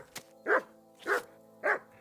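A dog barks three times at an even pace in the medieval video game Kingdom Come: Deliverance 2. The barks are clear and fairly close, and a soft short yip comes just before them.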